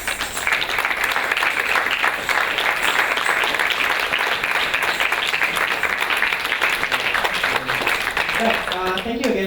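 An audience at an arts festival dance performance applauds after the show with a loud, continuous stretch of clapping that runs for nearly ten seconds before fading into voices at the very end.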